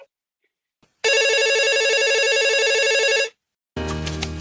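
A telephone rings on a call-in show's phone line, a loud continuous electronic ring for about two seconds, then silence before a second ring begins.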